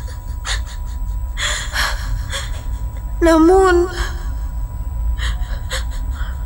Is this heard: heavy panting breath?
yes